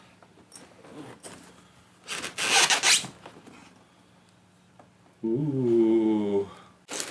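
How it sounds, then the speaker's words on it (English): A DJI Inspire 1 V2 carrying case is unzipped with one quick, close zipper pull, followed by quiet handling and then a drawn-out vocal exclamation. "Go ahead and unzip it here."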